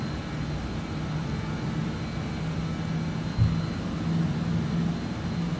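BAe 146 engines holding climb power in a flight simulator game: an even, moderate low drone with a faint whine, steady throughout, with one brief soft thump near the middle and no talking.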